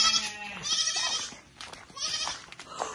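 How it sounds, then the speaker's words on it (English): Several goats on a farm in Benue State, Nigeria bleat in overlapping, wavering cries, fairly close, with farmyard background noise. "These are just goats."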